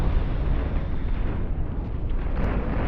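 Overcharged spaceship weapons firing in a space combat game, a dense, continuous roaring barrage of blasts, loud and sustained with no gaps, heavy low rumble under crackling bursts throughout.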